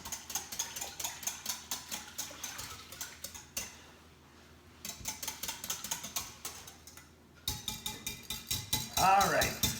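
Eggs are whisked in a bowl, giving quick, steady clicking taps of the whisk against the bowl, with a brief pause midway and a few louder knocks near the end.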